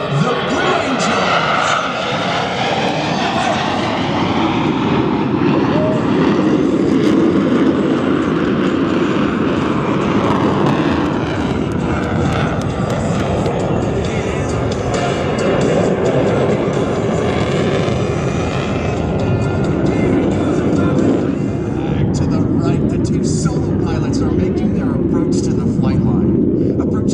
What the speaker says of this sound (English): Simultaneously roll their aircraft 420 degrees in section